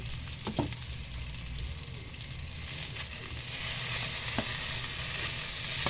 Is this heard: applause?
no